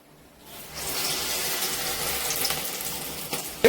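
Medu vada batter dropped into hot oil gives a steady, close crackling sizzle that builds after a quiet start and holds throughout, with a sharp clatter at the very end.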